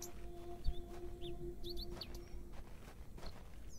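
Birds call and chirp in The Excavation of Hob's Barrow game, with several brief, high chirps scattered over a faint steady background drone and quiet low thumps.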